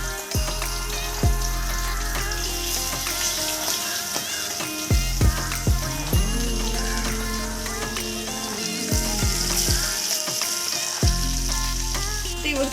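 Sardines dropped into well-heated, shimmering oil in a pan, frying with a steady close sizzle and crackle, broken by a few sharp knocks and clatters from the cooking.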